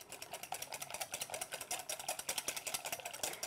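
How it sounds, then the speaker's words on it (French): A hand whisk beats wet cake ingredients in a bowl, a fast, steady run of close, rattling clicks and scrapes that continues without a break. "Et on fouette à la main."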